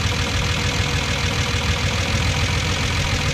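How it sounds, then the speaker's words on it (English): A Datsun 280Z engine idling close by after an idle air control screw adjustment, a dense, continuous low rumble holding a steady level throughout, with no voices. "Okay, the idle went up."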